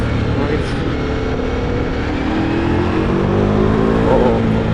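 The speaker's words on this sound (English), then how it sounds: "Oh, that engine is so much power." A Ducati Multistrada V4 Rally motorcycle engine, 2026 model, drones loud and continuous with a low rumble that swells gradually as it revs, close by with no pauses.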